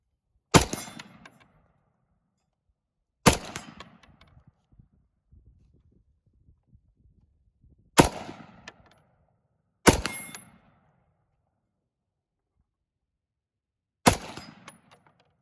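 FN FS2000 bullpup rifle firing five single shots, each a sharp loud crack with a short decaying tail, spaced irregularly a few seconds apart with quiet between.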